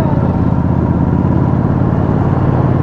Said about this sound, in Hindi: कुछ ज्यादा ही लाउड एग्जॉस्ट है भाई की 650 में